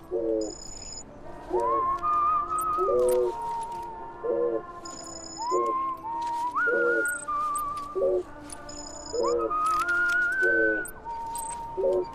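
Short melodic whistles from a character in the video game Death Stranding, repeated in several phrases over a soft steady background with high tones, close and fairly loud, no talking.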